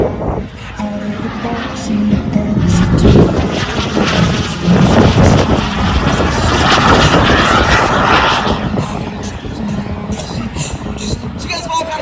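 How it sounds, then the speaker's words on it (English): A small mini jet at the Wings Over Cowtown airshow, NAS JRB Fort Worth, roars past during a triple-roll pass, its engine swelling loud and then easing off, with crowd chatter and an announcer's voice underneath. "Tom Larkin brings the mini jet back through for the triple roll"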